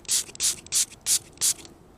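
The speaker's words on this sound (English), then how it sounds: "I got some spray. We'll just spray it on there first before we go plucking it from the earth." A spray can hisses onto a metal-detecting find still in the ground, five short, sharp bursts in an even rhythm, loud and close, with no voices.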